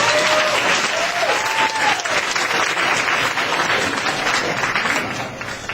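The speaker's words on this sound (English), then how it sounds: "we get a round of applause for our next performer" An audience at a poetry reading gives a dense, sustained round of applause, with a few whoops early on, fading slightly at the very end.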